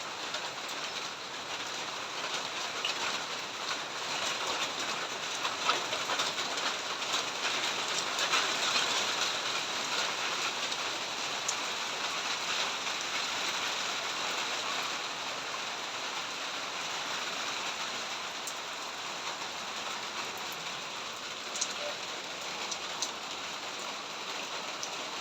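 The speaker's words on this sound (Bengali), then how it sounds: "দেখেন বৃষ্টি নেমে গেছে সকালে বাজে 9টা" Heavy storm rain falls steadily and densely for the whole stretch, a loud continuous hiss of drops on surfaces with no break. Faint bird calls sit underneath, and no one speaks.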